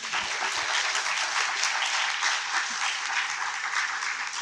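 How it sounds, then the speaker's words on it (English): A book launch audience breaks into a sustained round of applause, dense, even clapping from many hands filling the room at steady loudness without pause. "can I get a round of applause?"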